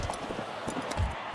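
Horses galloping on a race track in Gallop Racer 2004, a short burst of rhythmic hoofbeat thuds at moderate volume over a steady background hum.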